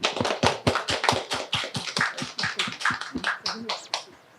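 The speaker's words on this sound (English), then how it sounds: "give a round of applause to our panelists" An audience gives panelists a round of applause at an economics and trade panel event, with brisk, rhythmic clapping from a smallish group, close and steady for about four seconds before fading out, with no voices.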